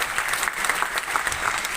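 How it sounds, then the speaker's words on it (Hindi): An audience claps for a speaker, a dense, steady patter of many hands at moderate level with no voices over it. "तो जोरदार ताली हमारे जयदेव विद्यानंद सर के लिए"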